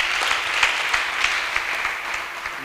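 A church congregation claps together in praise of God, a dense steady patter of many hands close and continuous, with little else heard.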